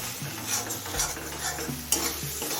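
Ginger-garlic paste is stir-fried in a pan over a low flame, with a spatula scraping and stirring under a gentle, continuous sizzle, and a sharper clink near the end.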